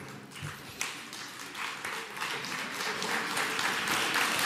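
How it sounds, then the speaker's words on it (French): Audience applause at a French gathering honoring rescuers and survivors: a dense, steady wash of many hands clapping that swells gradually louder and fills the whole stretch. "je crois qu'on peut vraiment les applaudir bien fort"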